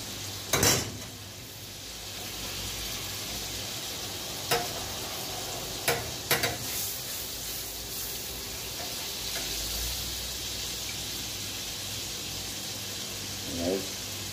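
Chopped garlic, onion and seasoning sauté in a hot pan in a home kitchen, a steady sizzle throughout with a few sharp clinks of a utensil against the pan.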